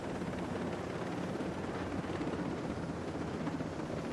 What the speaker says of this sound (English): I want to try and preserve the helicopter.